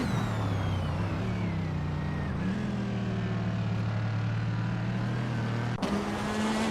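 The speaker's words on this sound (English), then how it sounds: "Maya is currently in 7th place, driving a 2016 BMW M6 GTLM" A 2016 BMW M6 GTLM race car drones steadily at high revs, its engine note rising as it accelerates, loud and close throughout with a brief shift or blip near the end.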